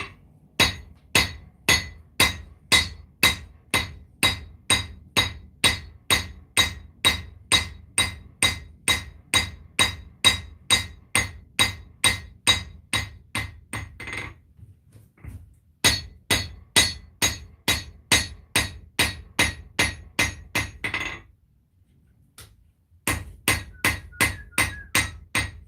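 A hammer strikes a hot knife blade on an anvil to forge the bevels, a long run of sharp, ringing metallic blows in a fast, steady rhythm, close and loud, broken by two short pauses.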